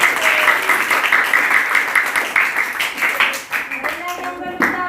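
Classroom group applauding after a group performance, dense clapping from many hands that carries on for several seconds, with voices mixed in underneath.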